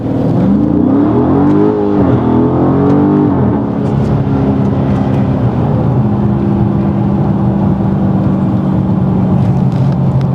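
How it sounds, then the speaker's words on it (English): A 2015 Dodge Charger Scat Pack with 170K miles accelerates hard, its engine note sweeping up in a loud, rising roar and then holding a steady, powerful drone close by. "I'll do another little acceleration test for you guys."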